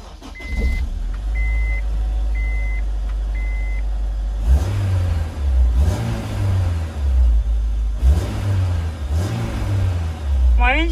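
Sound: Honda S2000 AP2 engine starting and revving

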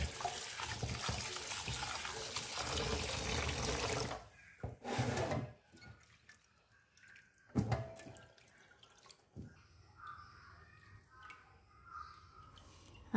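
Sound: water rinsing pickled vegetables

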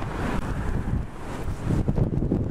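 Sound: wind by the lake

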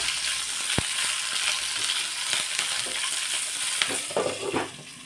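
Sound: green chillies roasting in a covered pan on full flame

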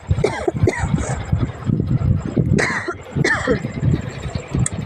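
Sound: coughing

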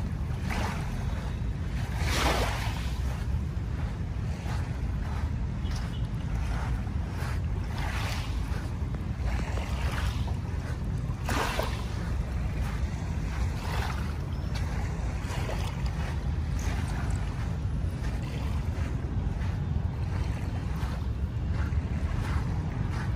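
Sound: waves in Manila Bay

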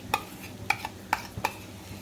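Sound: stirring master gravy mixture for egg curry in pan

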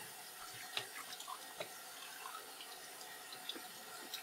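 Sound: guitar sides wetted under running tap water

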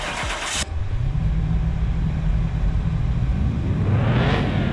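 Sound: 950HP muscle car engine revving during dyno test

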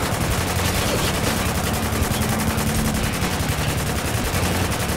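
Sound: rifle gunfire in Spec Ops: The Line video game

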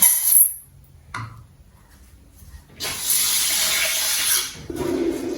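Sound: washing rice in water for porridge

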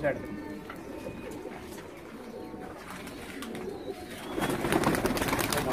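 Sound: Iraqi hybrid tippler pigeons cooing

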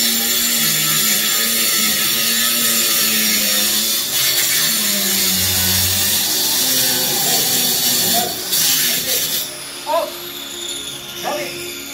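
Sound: saw cutting a concrete block in half

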